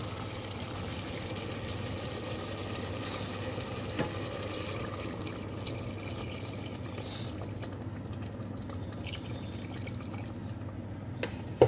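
Water is poured into a pot of chicken caldereta as a steady, soft stream with a low simmering hiss throughout, followed by a few faint knocks near the end.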